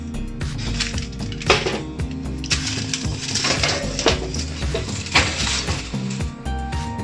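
A tandoori chicken dish is slid into a home oven with clanks of metal trays and racks, scattered knocks and clinks over a low steady hum, fairly close by.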